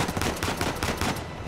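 A quick burst of gunfire in the video game Uncharted 4, several close, loud overlapping shots crackling in rapid succession over a brief moment.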